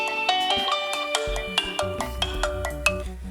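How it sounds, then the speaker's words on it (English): A Huawei HarmonyOS phone ringtone plays alone, a bright melodic sequence of plucked, bell-like notes over a soft bass pulse, clear and close. "one of the new ringtones from HarmonyOS"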